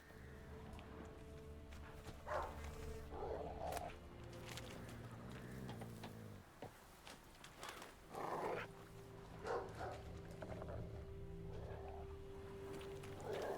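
A dog in the video game Witcher 3 barks in several short bursts over a faint, steady in-game ambience of low hum and clip-clopping hooves. The barks are quiet and come in a few separate clusters, with no speech.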